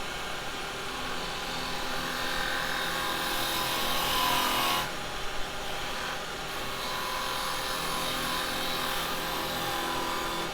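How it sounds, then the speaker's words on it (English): A half-inch spindle gouge cutting a wooden mallet spinning on a woodturning lathe, producing a continuous rough rasping hiss over the motor hum, briefly louder in the middle, with no talking. "go to a more normal spindle gouge. I think the 1/2 inch spindle gouge,"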